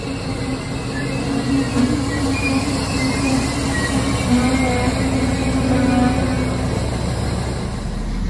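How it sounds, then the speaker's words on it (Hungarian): A Desiro passenger train running on rails, heard from inside as a steady, loud rumble of wheels with a squealing tone rising and fading, continuous and unbroken by talk. "nem vagonos vonat jutott, hanem Desiro, de hát ez is jó"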